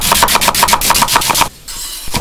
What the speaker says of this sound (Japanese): 根元は千切り、